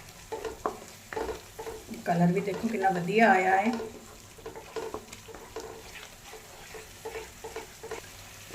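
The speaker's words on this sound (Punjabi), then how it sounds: "ਇਹਨੂੰ ਤੜਕੇ ਨੂੰ ਭੁੰਨਣਾ ਹੈ ਜਦ ਤੱਕ ਭੁੰਨਣਾ ਜਦ ਤੱਕ ਤੜਕਾ ਆਪਣਾ ਤੇਲ ਨਾ ਛੱਡ ਦੇਣਾ" A tadka spice base roasts in oil in a pan, crackling and sizzling steadily while a spoon scrapes and stirs it in irregular strokes. A voice talks over the cooking.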